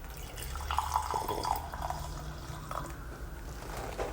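Brewed batch coffee pours into a cup at a coffee shop, a soft steady liquid trickle with small drips, close and alone over quiet room noise.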